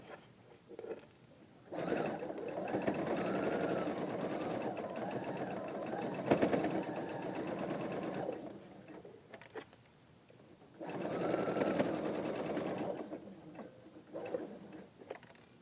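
A sewing machine stitches a long seam on a large quilt block, its steady whirring hum running in two sustained stretches with quieter pauses between them.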